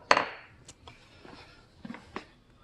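A brass hammer taps the blade of a 65 mm Kakuri flat hand plane to set its height: a crisp strike at the start, then a few lighter, irregular metallic taps spread out afterward.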